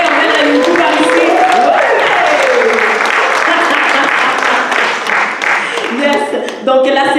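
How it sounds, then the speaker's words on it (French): Audience at a launch event applauding, a full, loud stretch of steady clapping with voices calling out over it, tapering near the end as speech resumes. "par applaudissement, est-ce qu'on peut saluer tout le monde qui nous regarde à la maison?"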